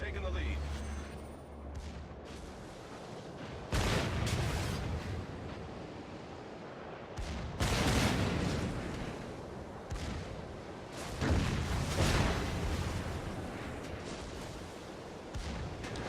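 Secondary guns on a warship fire in the naval game World of Warships, rendered as a series of heavy, booming blasts every few seconds over a rumbling sea-and-wind background.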